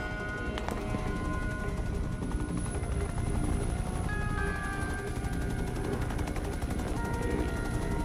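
A helicopter in the inFAMOUS First Light video game makes a steady, dense rotor-and-engine roar that fills the whole clip at constant loudness, with some sharp gunfire-like cracks mixed in.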